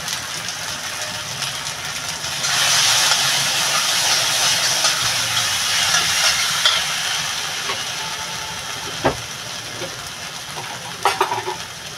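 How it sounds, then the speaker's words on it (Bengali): Spice paste for Bengali doi katla sizzles and hisses in a pan while being stirred, the frying turning louder after a few seconds and steady, with scraping stir strokes and light clatters of the utensil toward the end. "মশলাটা বন্ধুরা ভালো করে কষাবো আমি"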